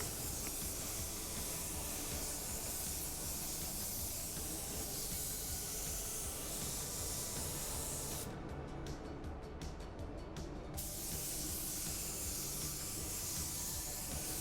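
A spray gun lays clear coat onto car panels over a gray metallic finish, producing a continuous close, even hiss that pauses briefly in the middle before resuming.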